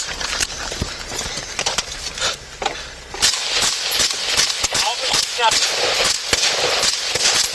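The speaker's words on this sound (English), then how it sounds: "Shots fired, shots fired, shots fired, shots fired!" Gunshots fired at a police sergeant during a confrontation, caught on a bodycam: sharp, loud cracks scattered through the clip amid scuffling, rustling and noisy movement, with commotion intensifying after the first few seconds.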